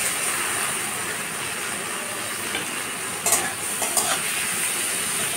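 Red lentils added to a frying pan and stirred, producing a quiet continuous sizzle with a few soft scraping knocks from the stirring near the end.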